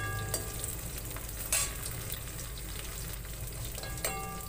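Asafoetida and spices fry in a pan for a village-style cauliflower curry, giving a continuous close sizzle with a few sharp clinks of stirring and no voices.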